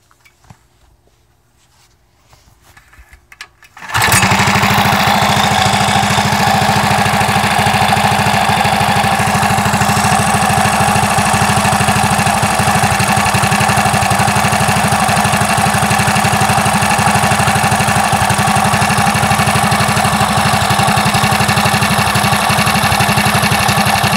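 A Predator 212 small engine fitted with new valve springs and a new cam fires up after a few quiet seconds, then runs steadily and loudly nearby with a constant, buzzing drone.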